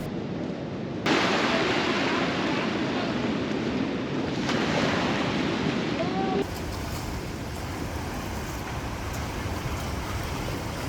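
Ocean waves wash continuously against a small harbour in Morocco, a broad steady surf roar with wind buffeting the microphone, louder in the first half before easing to a softer, even wash.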